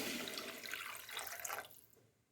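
Water pours in a steady, close stream into a pan of semolina (rava), then tapers off and stops.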